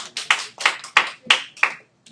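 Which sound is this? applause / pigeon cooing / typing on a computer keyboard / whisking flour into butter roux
applause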